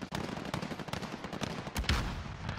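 Light machine gun firing in the Warzone video game, a steady stream of rapid automatic shots with a heavier burst near the end, loud and close with no talking.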